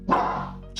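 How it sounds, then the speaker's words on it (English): A house dog barking in its sleep from a dream: one drawn-out, moderately loud bark-like yowl, then a brief second burst, with no talk over it. "Whatever it was that you're barking at, it's not real."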